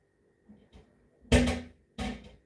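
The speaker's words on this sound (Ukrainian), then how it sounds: "Це витяжка стукає, оцей клапан зворотній." A kitchen range hood's check valve knocks: two sharp, hollow knocks close together, each followed by a short rattling tail, with a couple of faint taps before them in an otherwise quiet room.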